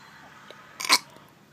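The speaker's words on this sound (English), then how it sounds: "That was my brother. He always burps." A person burps once, briefly and moderately loud, over a quiet background hum.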